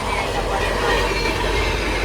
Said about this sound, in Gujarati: ટ્રેન જઈ જો